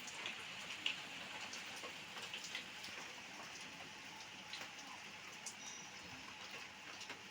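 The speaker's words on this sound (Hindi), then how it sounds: "वापस से बारिश शुरू हो गई है।" Steady rain falls outside a home in a soft, continuous hiss, with faint scattered drips and light ticks and no voices.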